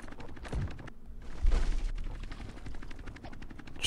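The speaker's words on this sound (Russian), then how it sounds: "Пытаюсь его забросать снарядами." Projectiles launched in the siege game The Catapult 2 as dense, rapid bursts of booming, crackling fire, loud and continuous with a heavier surge midway, no talk over it.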